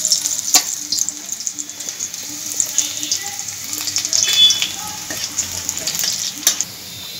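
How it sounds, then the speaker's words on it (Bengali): Chopped garlic fries in hot mustard oil, a close, bright sizzle punctuated by scraping stirs and clinks of a utensil against the pan, rising and falling irregularly with no speech. "তেলের মধ্যে প্রথমে আমি দিয়ে দিচ্ছি রসুন কুচানো"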